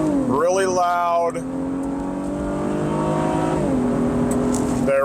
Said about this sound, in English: we're gonna pull out here and we're gonna do a quick launch